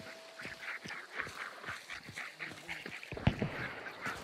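Ducks quack repeatedly in a busy outdoor video game soundscape from Hunt: Showdown, several calls overlapping with footsteps and a louder thump near the end.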